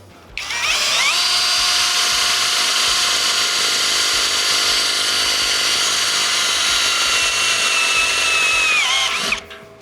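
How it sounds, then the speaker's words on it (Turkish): A power impact drill driving screws whirs loudly and steadily for about nine seconds, starting and stopping abruptly, with a high tonal whine throughout. "Bu aynı zamanda darbeli bir matkap."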